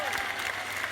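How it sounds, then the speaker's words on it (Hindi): Applause from a political rally crowd, a dense steady clatter of many clapping hands filling a brief moment at even loudness. "तालियों की गड़गड़ाहट से मेरी बात की समर्थन करो"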